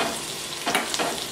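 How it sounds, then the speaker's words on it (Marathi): Green chillies, mustard seeds and cumin crackle and sizzle in hot oil, a close continuous fry with a couple of brief louder spatters from stirring. "आता मोहरी घालू, जिरे घालू, हिरवी मिरची घालू, मिरची आहे ना चांगली तेलामध्ये तळून घेऊ."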